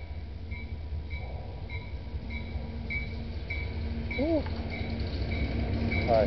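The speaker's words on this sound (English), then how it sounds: "I have to wait for this train to go by." A train rumbles past at close range at night near a cemetery, a steady low roar with faint rhythmic clatter and a brief high squeal near the end.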